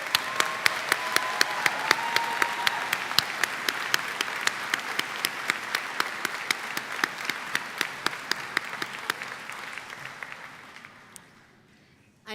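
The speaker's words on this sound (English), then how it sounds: "Let's give a round of applause for all of our master students." A commencement audience at Alfred University applauds its master's graduates, a full room of sustained clapping with sharp individual claps standing out, slowly thinning and fading away before it ends abruptly.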